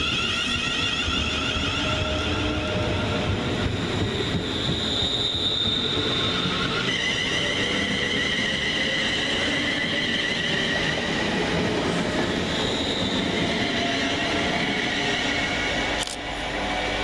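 An electric passenger train, Class 350 units, rumbles past at close range at Leighton Buzzard railway station, with steady wheel noise and squealing rails, running continuously for the whole stretch.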